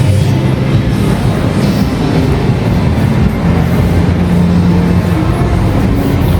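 A train moving inside a large shopping mall in Surabaya gives a loud, steady rumble that fills the whole stretch without pause.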